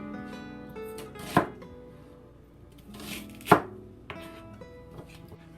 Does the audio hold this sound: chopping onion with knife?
yes